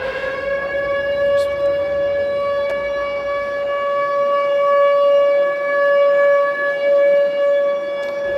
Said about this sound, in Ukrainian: якраз було зараз дуже символічно повітряна тривога